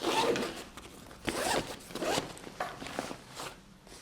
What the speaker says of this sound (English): You have these nice zipper pulls that are YKK.